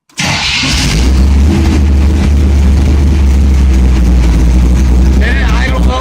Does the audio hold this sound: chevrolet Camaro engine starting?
yes